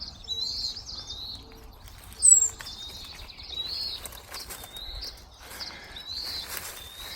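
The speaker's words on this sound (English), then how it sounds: "he's still being mobbed by birds 2 days later" Several small birds give repeated high chirps and sharp calls while mobbing a stranded fledgling in a forest canopy, the calls coming in bursts throughout. A louder flutter or thump stands out briefly near the middle.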